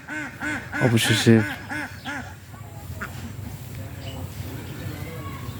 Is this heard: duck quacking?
yes